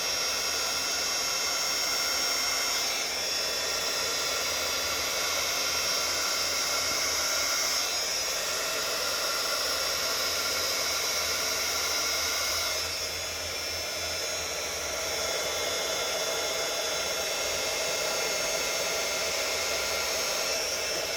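A heat gun blows continuously over poured epoxy resin on a marbled lazy susan, giving a steady, close, airy whir with a faint whine, no talking.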